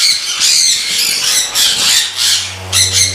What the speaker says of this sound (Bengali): এবার আসছি ব্লু ইয়েলো সাইড কোনর আর ব্লু গ্রিন চিক কোনর